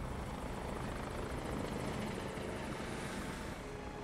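A helicopter in flight in a Dolby Atmos film scene drones steadily with rapid rotor chopping, a loud continuous roar with no voices.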